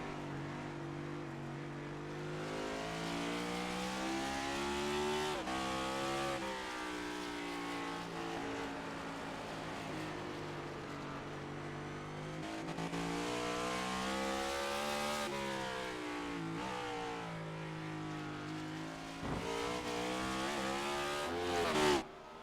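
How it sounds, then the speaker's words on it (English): A race car in the iRacing IROC Series at Sonoma Raceway, heard from on board, roars steadily with a strong harmonic engine note that rises and falls with throttle and shifts, close and loud with no talk. "you can just hear kind of in his throttle rhythm and his control of the car right now"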